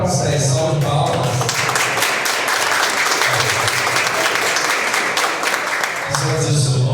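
An audience at a community gathering applauds in a sustained round of clapping, loud and dense throughout, with voices mixed in beneath it.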